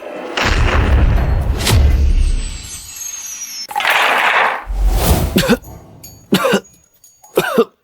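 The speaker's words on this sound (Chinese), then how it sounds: "爆炸！" Two loud, deep booming blasts rumble out, each followed by crackling debris, then a couple of sharp bursts in quick succession.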